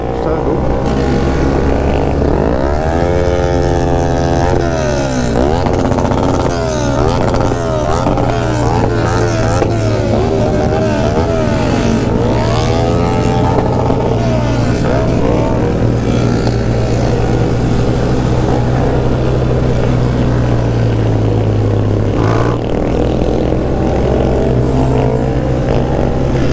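Motorcycles, including a 900, rev and pass repeatedly at night, rising and falling pitches over a constant low drone, with occasional voices mixed in.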